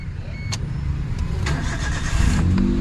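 A car engine cranks and catches, then settles into a steady rumbling idle that grows slightly louder near the end, heard close by.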